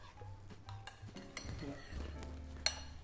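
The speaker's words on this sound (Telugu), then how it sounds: "ఇలా అరటిపండుని వేసుకున్నాక మొత్తం ఒకసారి కలుపుకోవాలి" Spoon scraping and clinking against a pot while banana is mixed into Andhra-style Ugadi pachadi, with soft stirring sounds and a sharper clink near the end, close and moderately quiet.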